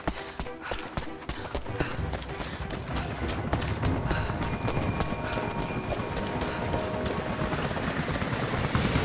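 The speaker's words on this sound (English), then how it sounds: "helicopters are headed your way" Helicopters approach in the video game Rise of the Tomb Raider: a dense, steady rotor beating and rumble that swells gradually over several seconds, with sharp rhythmic thuds running through it.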